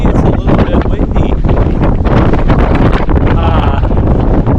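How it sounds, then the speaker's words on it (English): Strong wind on a mountain peak buffets the microphone with loud, continuous low roaring and rumbling gusts throughout, with no letup. "As you can see, it's a little bit windy."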